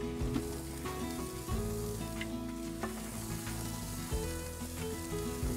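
Gully's bacon sizzling on a grill, a steady close crackle and hiss with intermittent spatters, accompanied by tonal background layers and no talking.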